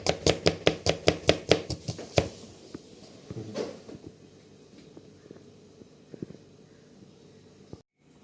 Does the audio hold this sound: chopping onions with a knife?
yes